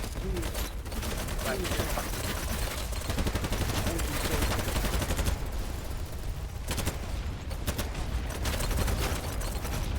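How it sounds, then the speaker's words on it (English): An explosion in a first-person shooter video game, booming amid continuous loud gunfire and weapon clatter, with sustained dense noise throughout. "did I set off my grenade in here?"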